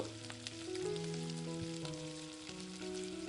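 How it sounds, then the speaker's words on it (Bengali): Spring onion pakoras deep-fry in hot oil, a quiet steady bubbling sizzle with faint tonal background music running underneath and no talking. "ওই একই তেলে বাকি পকোড়াগুলোকেও ওই একইভাবে গোল্ডেন ব্রাউন করে ভেজে নেব"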